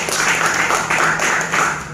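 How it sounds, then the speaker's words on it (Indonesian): Audience applause for an MC at a business presentation: a short burst of many hands clapping, swelling in loose rhythmic waves at moderate distance. "Tepuk tangan buat Mas Ardi sama Mas Ardi."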